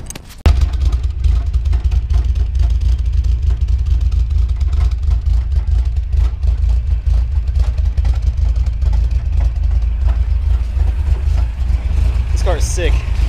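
An old Toyota's engine idles steadily after a jump start, a constant low rumble that stays loud and close throughout, with people talking briefly near the end.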